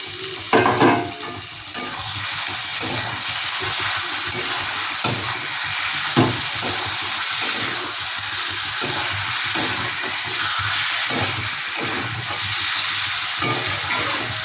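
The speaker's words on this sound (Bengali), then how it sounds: "এবার আমি চিকেনটা দিয়ে দেবো। এটার মধ্যে কিন্তু কোনো জল পড়বে না, জল ছাড়াই এই চিকেনটা রান্না হবে।" Chicken frying dry in spices in a pan for a chicken pickle, a steady close sizzle and hiss running throughout with occasional stirring scrapes and knocks.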